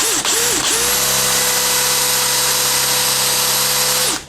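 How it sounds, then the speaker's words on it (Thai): A DeWalt DCD805 cordless drill drilling wood whirs up in two short bursts, then runs steadily at high pitch for several seconds before spinning down, loud and close. "โอเคเจาะต่อนะครับ"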